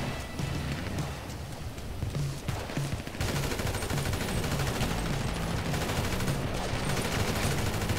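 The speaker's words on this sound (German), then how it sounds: "die sind ja schon im Schießen hier" Sustained gunfire in GTA 5 Online's Resurrection adversary mode, dense rapid shots that keep going throughout and grow heavier partway, close and loud, with no talk over them.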